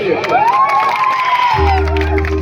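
Cheering and clapping crowd at a devotional bhajan evening, a loud continuous wash of voices and applause with a rising whoop, then a steady low drone of music entering partway through.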